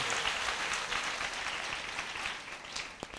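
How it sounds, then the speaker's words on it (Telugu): A church congregation claps together to glorify God during a sermon, a fairly faint, dense wash of many hands clapping steadily for about three seconds with no voices over it. "నమ్మిన వారు గట్టిగా చప్పట్లు కొట్టి దేవుణ్ణి మహిమపరచుదా"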